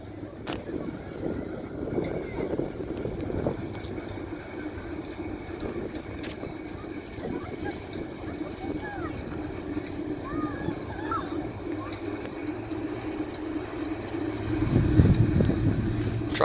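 A Class 08 shunter locomotive drawing brake vans toward the platform during a shunting demonstration at Locomotion, Shildon, a continuous rumbling engine drone that builds louder near the end, with faint rattles throughout.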